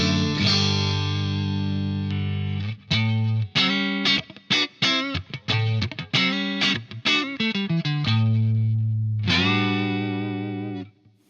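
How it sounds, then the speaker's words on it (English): Electric guitar played through a Soldano X88IR rack preamp in altered mode, a clean-leaning tone that breaks up into grit: sustained ringing chords, then a burst of quick choppy stabs and short notes, then a final held chord, loud and close with no talking. "we have the altered mode, which gets a little more sort of like classic clean, but it also breaks up and gets dirty"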